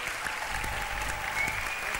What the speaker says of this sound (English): Let's give them a big, big round of applause.